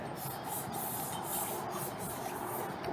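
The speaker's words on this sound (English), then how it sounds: "I'm just gonna use the sandpaper to sand down, right there." Sandpaper scuffing a new e-coated car part by hand with light pressure, a steady broadband rasping hiss that continues close and even throughout, with no talking.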